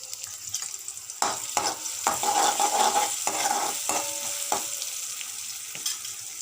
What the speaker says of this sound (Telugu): ఉల్లిపాయ ముక్కలు వేగుతున్నాయండి